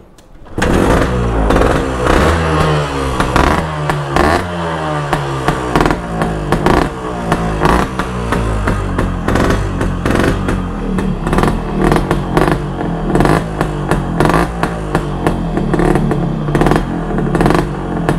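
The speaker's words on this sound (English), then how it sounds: "So let's start her up." A Yamaha RX100 two-stroke motorcycle, modified as a scrambler, starts up and is revved repeatedly, with sharp crackling bursts over a loud, busy engine note that runs without letup close to the listener.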